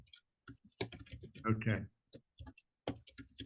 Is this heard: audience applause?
no